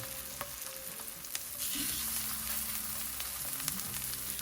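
Steady, crackling sizzle of black bean, mushroom and olive burger patties frying in a hot pan, close and continuous, with no talking.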